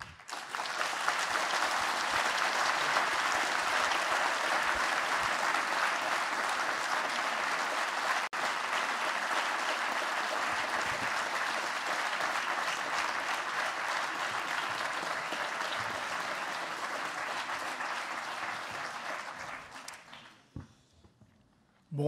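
Long, sustained applause from a large audience at a plenary session following a testimony, steady and full for about twenty seconds before fading out abruptly.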